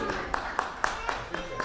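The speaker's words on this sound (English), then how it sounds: "Big round of applause for everyone who did the crossword" Steady, rhythmic applause for crossword participants at a gathering at Bhaktivedanta Manor. Regular claps land about four times a second over a constant room hum.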